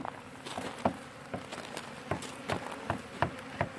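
A honey bee swarm being hived buzzes close by, a faint steady drone broken by repeated soft taps and scrapes at an uneven rhythm.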